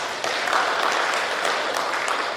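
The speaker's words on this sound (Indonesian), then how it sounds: "Tepuk tangan dulu" An audience at a government welcoming evening for the Banggai Laut police chief claps steadily in a dense, even wash of applause that holds for the whole stretch.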